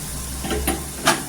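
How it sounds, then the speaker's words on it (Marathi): Hot spice tempering with turmeric sizzles as it is added to a raw mango dal, a soft steady fry hiss broken by a few short bursts as the pan is stirred. "छान असा तडका बसल्यानंतर आहे ना डाळीला फोडणी द्यायची."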